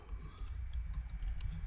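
Rapid typing on a computer keyboard while entering Selenium code, dense bursts of close, crisp key clicks over a low background hum.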